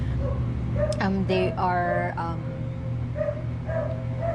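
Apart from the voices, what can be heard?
neighbours' dogs barking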